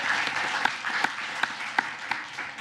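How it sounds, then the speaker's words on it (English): Audience applause at a Corpus Christi ISD regular board meeting, a steady wash of clapping with a few sharper individual claps standing out, moderately loud and continuous throughout, no talking. "now y'all can clap"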